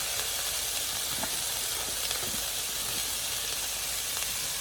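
Crispy chilli beef hits a hot stir-fry pan with a steady, dense sizzle and hiss that holds evenly throughout, close and continuous with no talking.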